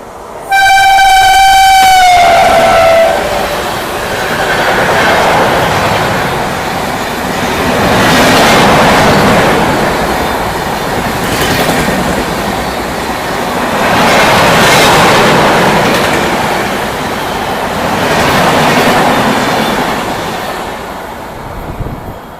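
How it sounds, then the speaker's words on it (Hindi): Jammu Tawi–Guwahati Lohit Express passing on the track in heavy rain, opening with a loud multi-tone horn blast for about three seconds, followed by a continuous roaring rumble of wagons with rising and falling swells and rhythmic wheel clatter. "ये क्रॉस हो रही है जम्मू तवी गुवाहाटी लोहित एक्सप्रेस"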